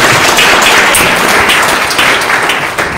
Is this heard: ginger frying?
no